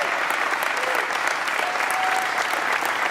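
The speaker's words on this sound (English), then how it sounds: "let's give them both a great applause." A large audience applauds the band and choir at the opening ceremony of the Ohio State Fair. The clapping is loud and steady throughout, with dense crowd noise and a faint tone drifting through.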